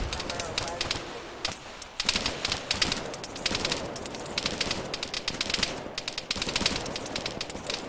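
Continuous automatic gunfire from weapons in the Arma 3 video game, with rapid machine-gun bursts and overlapping shots that keep a dense, loud clatter going without a break.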